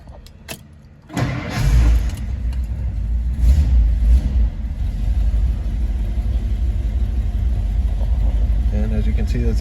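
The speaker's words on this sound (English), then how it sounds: "I'm going to hop in and get it fired up so you can hear it" A 1960 Ford Thunderbird Convertible cold-starting: a short cranking burst catches into a loud, steady low rumbling idle that carries on close by, with a few light clicks before the start.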